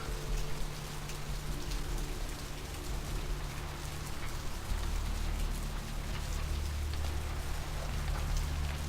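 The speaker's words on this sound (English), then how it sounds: "It's raining." Steady rain falls in the video game Vampire the Masquerade Bloodlines, an even, continuous wash of droplets with a low hum beneath, with no voices.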